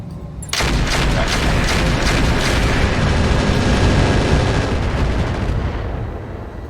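Mech weapons firing in the Roguetech video game, a sudden dense barrage of rapid booming shots and explosions that starts abruptly and rumbles on loudly for several seconds before easing, no talk.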